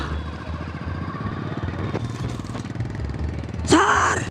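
A motorcycle engine idles and putters close by in a low, steady rumble, then swells louder near the end as the bike pulls up, with a short sharp noise at the arrival.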